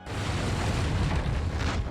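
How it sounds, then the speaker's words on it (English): A warehouse door is blown open by an explosion, heard as a dense, roaring blast of low rumble and debris that sustains at full loudness for about two seconds with no voices. "Suddenly, there is an explosion."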